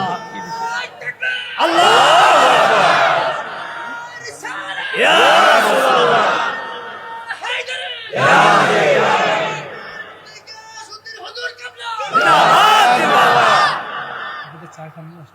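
A large crowd at a waz mahfil, a Bangladeshi Islamic sermon gathering, roars religious slogans in four loud bursts, with a lone voice leading between each burst.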